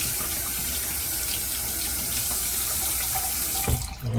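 A bathroom tap runs steadily as water splashes to wet a shaving brush, a close, moderate gushing stream that stops abruptly near the end.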